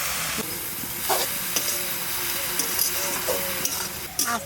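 Beto greens with chili and salt sizzle and crackle in a hot pan with a steady hiss, broken by occasional scraping stirs and faint clinks, close up.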